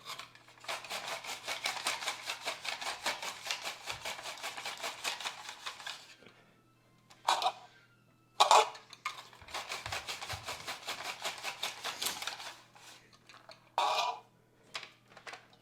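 A knife slices vegetables into matchsticks on a cutting board in rapid, evenly spaced strokes, forming a quick rhythmic patter, then pauses and resumes in bursts with a few isolated, sharper board knocks.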